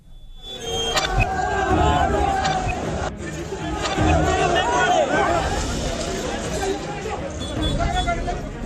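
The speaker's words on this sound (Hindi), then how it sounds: "प्रदर्शन के दौरान कलेक्ट्रेट पर भीड़ बेकाबू हो गई" Unruly protest crowd at a collectorate during a police lathi charge, loud dense shouting and babble throughout with sharp cries and commotion rising and falling.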